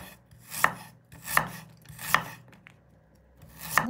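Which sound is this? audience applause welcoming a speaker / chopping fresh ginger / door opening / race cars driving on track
chopping fresh ginger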